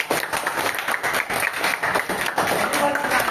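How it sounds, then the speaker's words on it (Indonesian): A classroom of students claps together after a pupil's answer in a school lesson, a steady broadband patter of many hands lasting a few seconds with a voice or two mixed in. "Good, terima kasih, tepuk tangan dulu."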